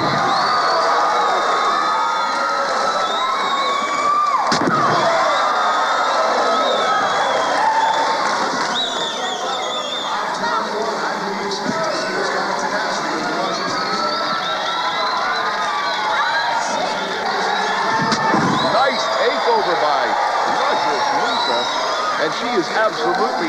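A wrestling crowd cheering and shouting in a steady roar with some scattered applause, while commentators talk over the noise.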